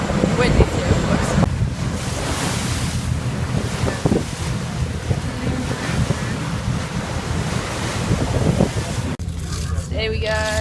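Strong wind buffets the microphone during a boat trip among Patagonian glaciers, a loud rushing roar mixed with water and boat noise, with brief talking.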